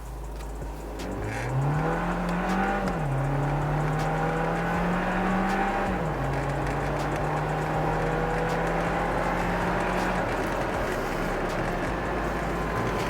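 A VW Jetta MK7 engine accelerates hard in sport mode, a rising, climbing engine note with a pause or gear change partway, then a steady high drone under constant road and wind roar.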